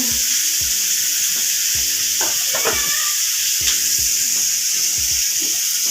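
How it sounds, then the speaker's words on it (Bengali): Chicken meat sautéing in a hot pan for chicken biryani, with a steady sizzle and hiss broken by repeated scraping knocks as it is stirred, close and fairly loud. "এদিকে মাংসটা কষিয়ে নিচ্ছি"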